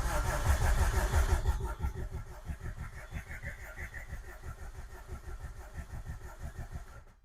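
A Subaru WRX engine cranks during a compression test on cylinder number 4: a loud burst at first, then a long run of rapid, even starter-motor pulses chugging rhythmically before stopping abruptly.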